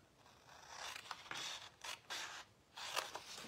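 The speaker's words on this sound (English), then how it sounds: "I'm just cutting on the score lines" Scissors cut through card stock along its score lines in several short strokes, crisp rasping snips separated by brief pauses, close and quiet.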